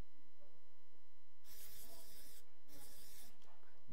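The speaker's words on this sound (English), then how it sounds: "so now I'm going to do a quick spray." Quick aerosol spray onto chocolate treats colored with Americolor, two broad hissing bursts of about a second each, close and fairly loud, separated by a short pause.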